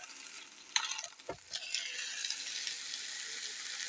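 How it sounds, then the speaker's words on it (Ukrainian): Soft, steady frying sizzle with a few clicks and knocks of a utensil near the start, fairly quiet overall. "Тут все смажиться."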